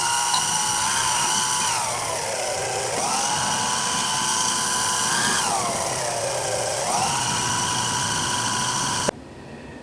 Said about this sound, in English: I always like to spot those center punch holes on the little precision Cameron micro drill press